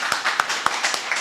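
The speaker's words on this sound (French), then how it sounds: "sous vos applaudissements." A brief burst of scattered hand claps from an audience at a corporate event welcoming the new director general of Expresso Sénégal, with about half a dozen distinct, fairly close claps over a second.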